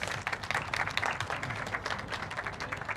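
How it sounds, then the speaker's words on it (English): Conference audience applauding the event hosts, a dense rapid patter of many hands clapping steadily for a few seconds at moderate distance, with no voices over it. "give them a big round of applause for me"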